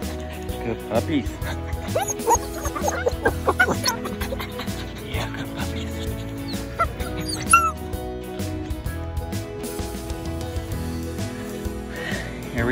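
Young Standard Bernedoodle puppies yip and whimper in short, high bursts scattered through the clip, close by, while a person talks softly over them.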